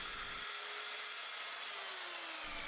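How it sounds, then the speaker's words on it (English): A Triton TA184 circular saw cuts into a wood workpiece, its blade producing a loud, steady high whine and rasp with a slowly falling pitch, close up, with no voices. "slowly push the saw forward into the workpiece"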